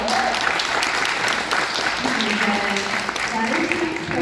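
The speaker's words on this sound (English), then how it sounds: "one round of applause for the interpreter tonight as well" An audience at a panel discussion applauds the interpreter, a sustained, even round of clapping from a room full of people, moderately loud throughout.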